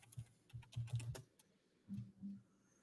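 Someone types slowly on a computer keyboard, close and fairly quiet, with a quick burst of keystrokes followed by a pause and then two more separate taps.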